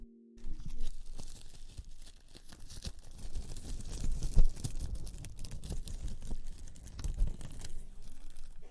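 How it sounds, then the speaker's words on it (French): A paper jewelry packet is unfolded close by in a jewelry workshop, with crisp crinkling, rustling and small tearing sounds that go on for several seconds. "on vient d'entendre un bruit de papier. Je viens d'ouvrir un pli"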